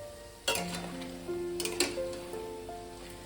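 Biulir dal bara, urad dal fritters for rashbara, frying in hot oil, with a steady close sizzle broken by a few sharper spattering pops and bubbling tones.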